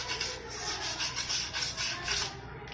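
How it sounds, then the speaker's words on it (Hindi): Sandpaper scrubs a TVS Star City Plus motorcycle brake shoe clean in quick back-and-forth strokes, a close, rhythmic rasping that runs steadily throughout with no voices. "इसको सैंड पेपर से अच्छे से क्लीन कर लेते हैं"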